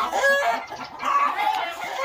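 Chickens clucking in a henhouse on a morning farm, several close overlapping clucks and short calls in two bursts, loud and busy, with no talking.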